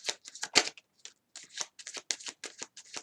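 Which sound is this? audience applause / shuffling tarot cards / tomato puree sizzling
shuffling tarot cards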